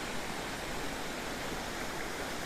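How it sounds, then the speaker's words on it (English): A willow brook rushes out of a dammed lake in a steady, dense, broadband flow of water, close and loud with no pauses. "This is at the end of the lake where a willow brook escapes from the dammed section that we're standing on"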